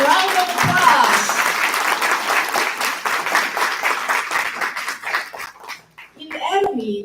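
An event crowd applauds central leaders as they stand, clapping dense under loud talk over a PA, with brief cheers before it thins out near the end.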